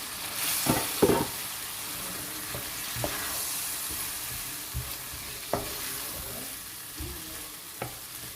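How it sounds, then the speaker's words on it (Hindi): Masala with maash and chana lentils fried and stirred in a pan, a steady sizzle with a few spoon scrapes and taps spread through. "अच्छी तरह से इसको मिक्स कीजिए और इस मसाले को हमने भूनना है अब"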